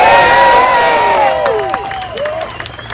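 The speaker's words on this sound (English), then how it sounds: "And a big round of applause." Crowd at an outdoor march in Townsville, Australia, cheering and applauding loudly, with raised voices and whistle-like shouts rising over steady clapping throughout.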